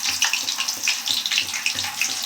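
Water is poured into a hot pan of frying baby banana 65, with a steady hiss and gurgle of liquid hitting hot oil and rhythmic splashing bursts that continue throughout, close and fairly loud.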